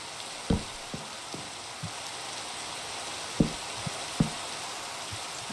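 Steady hissing rain falls in the video game Minecraft, a dense even patter punctuated by a few soft knocking thuds, with no talking.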